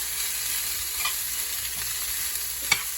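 Onion and garlic sauté in a hot pan for a Filipino dish of banana heart in coconut milk, a constant close sizzle with a few soft stirring scrapes and clinks.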